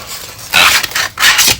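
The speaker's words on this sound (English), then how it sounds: "sorry for the styrofoam noise" Loud, close squeaky scraping and rubbing of styrofoam packaging as a foiling machine is lifted from its box, in two rough bursts after a quieter rustle.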